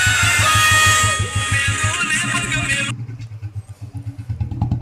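A Royal Enfield Bullet motorcycle on the move, its engine giving a deep, rhythmic thumping beat, loud at first over whooshing wind and then clearer and pulsing. Voices are heard over the ride.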